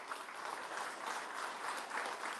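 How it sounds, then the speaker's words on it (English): Brief applause from a live-show audience at the LumberJack venue, steady clapping that runs evenly throughout and sounds somewhat distant and soft. "How about a big round of applause for everybody here at the LumberJack?"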